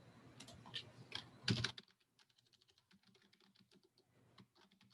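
Computer keyboard typing, a few louder clustered keystrokes up front followed by a run of soft, quick, irregular taps; near and quiet with no talking.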